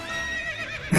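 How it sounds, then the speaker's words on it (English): A cartoon horse gives a loud, close whinny with a wavering pitch lasting about a second, ending in a brief bright burst, with no talk over it. "hey, there's a horse."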